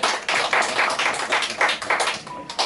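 An audience at a church service claps together in a burst of quick, rhythmic applause that lasts a few seconds, close and fairly loud, then trails off.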